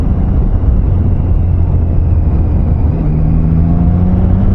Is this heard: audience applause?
no